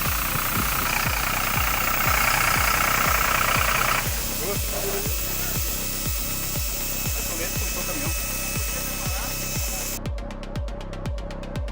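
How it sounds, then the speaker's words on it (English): A roaring Stihl MS-462 chainsaw bites into wood, running loud and close with a steady rhythmic chatter of cutting strokes, pitch shifting partway through as the load changes, a high whine entering near the end. "A roaring chainsaw becomes an artist's brush in his hands."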